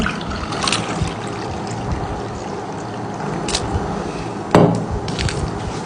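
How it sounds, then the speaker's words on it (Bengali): Milk is poured into a pot to make nabiz, a steady close pouring rush broken by a few light knocks and one sharper clunk near the end. "সর্বপ্রথম আমাদের দুধটা ঢেলে দিতে হবে কোটার মধ্যে"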